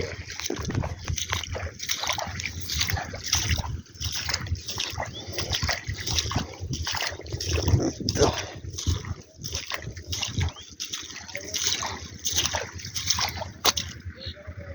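Someone wades through shallow water in a grassy, flooded field, feet sloshing and splashing in an uneven rhythm close by, with someone talking over much of it.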